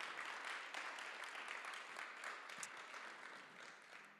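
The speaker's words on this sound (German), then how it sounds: "Macht nochmal einen Applaus für alle." Audience applause at a German Science Slam championship final, a dense, steady clatter of many hands clapping that slowly tapers off, heard alone without voices.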